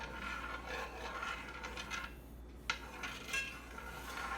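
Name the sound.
stirring melting honey in a cooking pot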